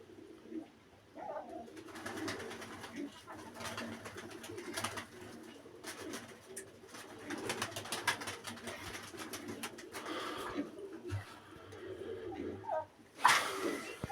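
Young and old pigeons in a loft, cooing softly at close range in repeated low murmurs, with wing flaps, rustling and occasional faint talk behind.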